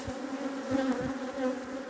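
Honey bees buzz steadily at an open hive during a spring inspection, a dense continuous drone close by with small swells in loudness and no voices.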